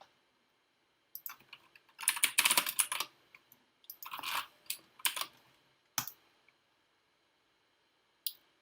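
Bursts of typing on a computer keyboard, with quick clusters of key clicks separated by pauses and a last lone tap, close and fairly loud against a quiet room, with no talking.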